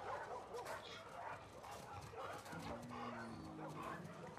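A dog barks and yips in The Last of Us Part II video game, a few short barks at moderate level mixed with background game sounds.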